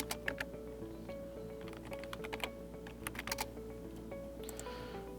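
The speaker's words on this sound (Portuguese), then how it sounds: "clico na célula e digito" Keys clack on a computer keyboard while entering text into an Excel spreadsheet cell, in quick irregular bursts over a steady low hum, close but quiet.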